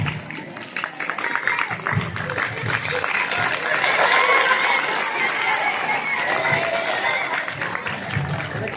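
Dense, sustained audience applause at a school prize distribution at Sulemaniya U H school, a steady wash of many hands clapping that swells slightly mid-way and carries on to the end, with some voices mixed in.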